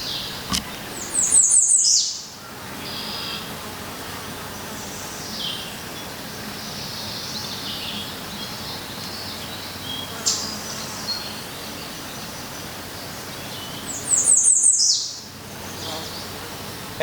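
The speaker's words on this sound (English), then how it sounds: "the birds sing and they flit about" Wild birds outdoors in Pennsylvania in late summer or early fall give two short, bright chirping bursts near the start and end, with faint scattered calls between over a quiet, airy background.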